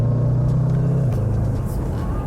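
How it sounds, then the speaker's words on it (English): A deep, loud engine rumble from the sport exhaust of a luxury performance SUV, holding a low throaty note before the pitch drops as the revs fall away. "And that sport exhaust."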